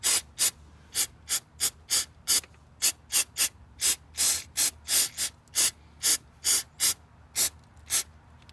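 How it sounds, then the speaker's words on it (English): Electronics cleaner sprayed onto a sensor of an LB7 Duramax engine after a fuel filter replacement, about twenty short, sharp hissing bursts in a quick, uneven series, close and fairly loud with near-silence between. "So we're just going to spray this down."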